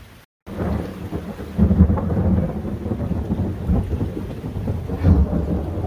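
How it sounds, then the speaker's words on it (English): Deep rolling thunder rumbles over steady heavy rain, swelling and fading in long waves with no one speaking. "So we're right over the heart of the storm is moving over us right now"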